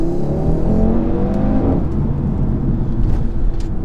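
A 2017 Audi RS3 saloon engine revs up hard and accelerates, a loud rising roar with a gear change partway through, close and continuous with no talking.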